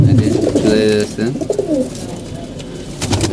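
A green-speckled pet pigeon coos close by in a few soft, throaty bursts, with light cage rustling around the calls.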